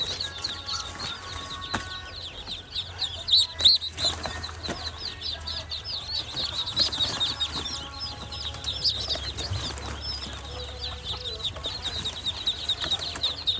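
Ducklings flap their wings in brief scuffles as they are caught at a duck farm, the flutters rising over a continuous chorus of peeping birds.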